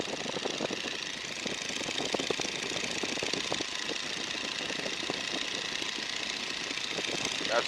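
A 1942 Boeing N2S-2 Stearman biplane's radial engine drones loudly and steadily while being powered up for a climb, a rough, throbbing roar that fills the cabin without pause.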